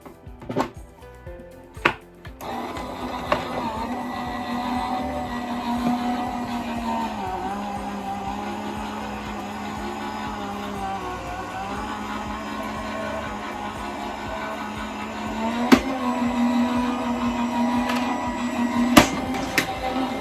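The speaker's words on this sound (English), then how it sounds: "And now, all being well, it should go through the machine." A Gemini embossing machine motor rolls a die-cut sandwich with a plastic plate through, giving a steady mechanical hum with a few clicks and thumps at the start and near the end.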